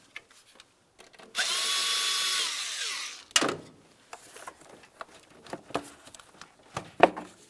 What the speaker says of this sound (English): Use an 8mm to loosen this clamp.